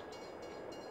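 Railway rumble from a train in the video game Farming Simulator 22, a steady dense rolling noise with faint periodic clatter, continuous and fairly close throughout the short stretch.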